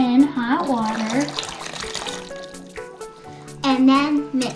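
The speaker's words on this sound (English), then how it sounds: "Pour in hot water" Hot water pours into a bowl of jello mix in a kitchen, a soft liquid stream under someone talking, with music playing in the background.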